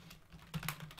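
Fingers type on a computer keyboard in a quick, close series of soft clicks and taps, a brief burst with no voices.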